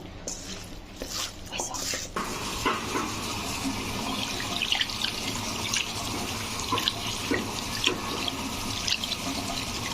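Water pours steadily into a cooking pot of beef at home, a continuous close splashing rush with a few clunks at the start, under faint background talk.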